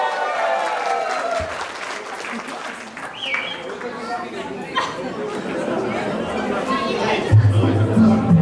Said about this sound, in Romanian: Încă o dată, aplauze furtunoase,